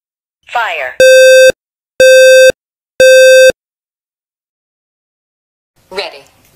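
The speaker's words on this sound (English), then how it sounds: "The alarm will sound. The alarm is loud." A combination smoke and carbon monoxide alarm's test sounds three loud, evenly spaced piercing beeps, with a synthetic voice speaking briefly before and after.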